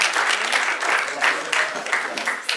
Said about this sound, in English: I would like you to once again give your applause